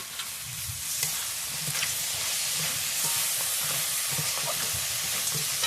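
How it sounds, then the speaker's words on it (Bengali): Crab and potatoes stir-fried in a spice paste for a crab curry, with a steady close sizzle and regular scraping strokes of a spatula against the pan. "মশলার সঙ্গে কাঁকড়াটাকে ভালো করে কষিয়ে নেবো।"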